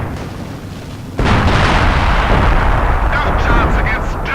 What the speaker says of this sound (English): I ended up firing some artillery down here.